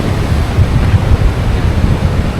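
Ocean waves on a beach, a loud continuous wash of surf mixed with strong wind buffeting the microphone, with no distinct breaks.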